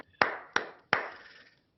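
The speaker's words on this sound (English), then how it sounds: "Another round of applause." Audience applause at a student awards ceremony, reduced to three separate, distinct claps spaced roughly a third of a second apart, each ringing briefly in a quiet room.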